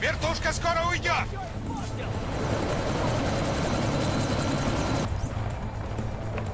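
A helicopter in the video game Deus Ex: Mankind Divided hovers with a steady, loud rotor and engine drone that fills the scene, with brief game dialogue at the start.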